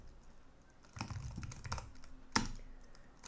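Code is typed on a computer keyboard in short bursts of close key clicks, a quick cluster of taps followed by a sharper single keystroke, with no voices.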